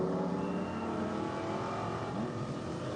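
Race car during a qualifying session, a steady engine roar going past at moderate distance with no talk over it.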